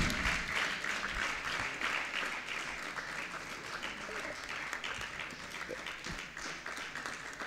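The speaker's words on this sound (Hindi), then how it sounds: "तालियां बजती रहें तो कोई नुकसान नहीं" An audience at a Pandit Todarmal Snatak Parishad graduates' conference gives sustained, steady applause in a hall, a dense wash of many hands clapping throughout without letting up.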